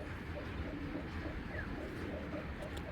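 A racing pigeon from the BRPFC club coos softly and steadily against a constant low rumble of background noise, with no voices.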